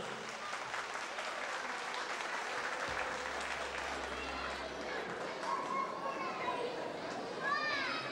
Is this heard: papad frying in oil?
no